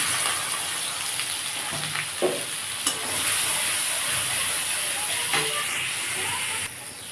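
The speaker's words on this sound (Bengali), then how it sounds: "এই তেলের মধ্যে আমি এই হলুদ আর লঙ্কা গুঁড়োটা দিয়ে দেবো" Turmeric and chili powder sizzle in hot oil left after frying parwal, a loud, constant hiss with a few faint clinks of a utensil against the pan.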